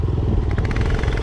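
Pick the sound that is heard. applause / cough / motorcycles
motorcycles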